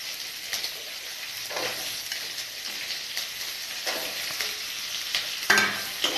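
Green capsicum diced and stir-fried in a pan for chicken Manchurian, giving a steady sizzle with scraping stir strokes throughout, fairly close and moderately loud.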